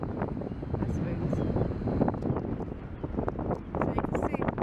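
Wind at the beach buffets and rumbles across the microphone in steady gusts, while a voice talks over the roar throughout.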